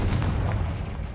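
A Confringo spell exploding in a wizard video game, a dense booming blast with a rumbling low body, loud and sustained across the moment.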